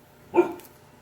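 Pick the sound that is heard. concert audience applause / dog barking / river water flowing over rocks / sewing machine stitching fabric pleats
dog barking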